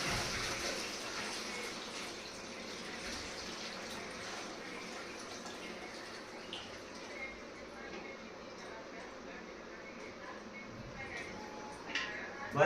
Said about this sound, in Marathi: पाणी टाकत आहे आता मी कूलरमध्ये